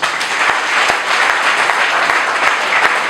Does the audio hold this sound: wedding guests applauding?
yes